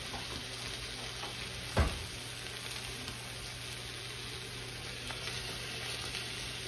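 Ravioli filled with mashed potatoes and cheese sizzle steadily in melted butter in a pan, a continuous close frying hiss with one brief louder clatter near the start.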